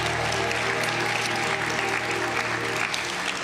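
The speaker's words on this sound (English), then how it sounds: "Let's give all of our students another round of applause" An audience at a scholarship celebration applauds students throughout, a dense, steady clapping that stays even from start to finish with no talking.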